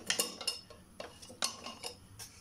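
A frying pan is set down in a home kitchen before onions go in, heard as several sharp metallic clanks and clinks of cookware, close and fairly loud, with no talking.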